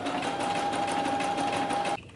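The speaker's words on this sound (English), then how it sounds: "I'm gonna sew the top seam" A sewing machine runs steadily along the top seam of a summer top, a close, even whirring hum that stops abruptly near the end.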